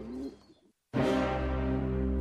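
Pigeons coo in a short call, then fall silent briefly before a louder, sustained, resonant cooing sound returns; no one speaks.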